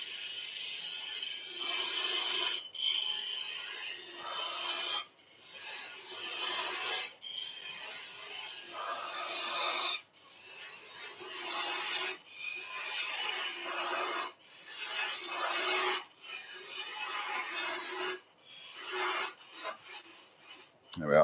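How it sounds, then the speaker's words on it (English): Parting tool cutting into wood on a lathe while turning salt and pepper grinders: repeated rough rasping cuts of a few seconds each, separated by brief pauses, fairly quiet and close with no talking. "Parting tool again. Couple of cuts."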